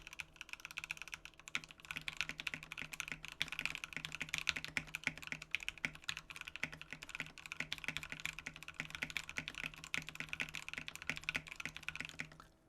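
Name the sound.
typing on Satisfaction75 keyboard, PBT keycaps, FR4 plate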